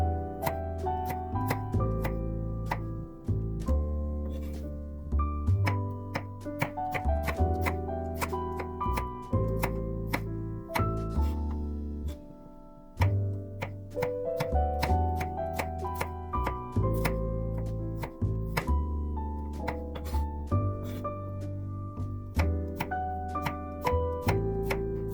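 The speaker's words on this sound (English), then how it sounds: "I slice a few cloves and add them in." A kitchen knife slicing garlic cloves on a cutting board for creamy chicken pasta, giving a long run of crisp, irregular chopping taps, some quick and clustered, with a brief pause midway.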